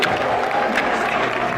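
Crowd noise at a live Call of Duty League esports match, a steady dense roar of cheering and voices that fills the whole moment at high volume.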